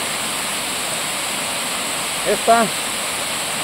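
Steady broadband rush of a river waterfall swollen by rains, continuous and close, filling the whole clip while someone speaks briefly over it.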